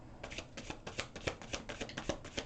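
Very glossy, slippery tarot cards being shuffled by hand, a rapid run of crisp riffling flicks and soft slaps in an uneven rhythm, close and fairly quiet with no talking.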